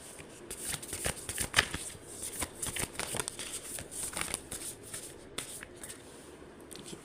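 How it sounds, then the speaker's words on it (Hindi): Tarot cards shuffled by hand during a reading, a quick run of crisp riffling and flicking bursts that carries on steadily throughout at close range, with no one talking. "कार्ड शफल करूँ"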